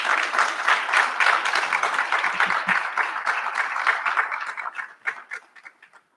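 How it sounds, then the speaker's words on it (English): Graduating alumni at a recognition ceremony applaud themselves in a dense, lively round of clapping that holds steady, then thins into scattered final claps and stops. "So give yourselves a round of applause."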